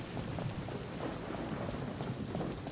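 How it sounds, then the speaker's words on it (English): Steady rain with low rumbling thunder in the fantasy game Genshin Impact, a dense continuous hiss with soft deep swells underneath, heard alone without voices. "Oh, the rain sounds so nice."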